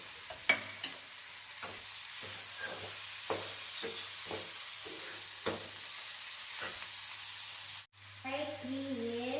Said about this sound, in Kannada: ಇವಾಗ ಹುಣಸೆಹಣ್ಣಿನ ರಸ ಹಾಕಿಕೊಂಡು ಚೆನ್ನಾಗಿ ಫ್ರೈ ಮಾಡ್ಕೊಳ್ಳಿ.